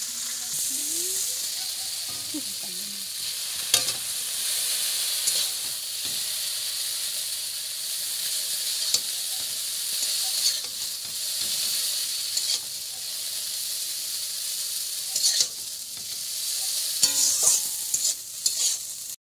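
Chow mein stir-fried in a pan gives a steady, close sizzle and hiss, with occasional scraping and clinking of the spatula against the metal, continuous throughout.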